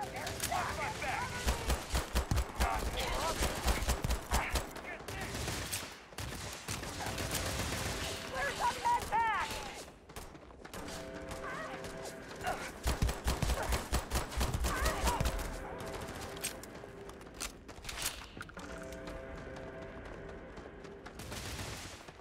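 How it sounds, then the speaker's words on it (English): Gunfire in the video game Starfield, rapid bursts of shots and rattling automatic fire coming in clusters amid other game effects, with a person talking over it. "Gunfire feels good."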